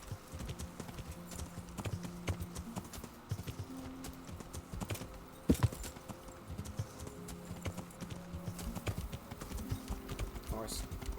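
Horse hooves clip-clopping in the video game Kingdom Come: Deliverance, a steady rhythmic run of hoofbeats throughout with a louder thud partway through, while a person talks over it.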